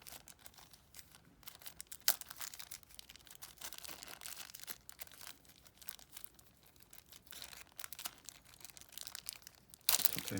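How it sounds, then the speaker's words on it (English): A small plastic baggie crinkles and tears open up close, faint rustling and crackling with a sharper rip near the end, and no one speaking. "Sometimes the little baggies aren't easy to open. Unfortunately, this one ripped."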